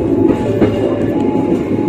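A train rolls into track 3 at Tarik station, a steady low rumble of wheels and car body with a faint rhythmic clatter, heard close from inside the moving train.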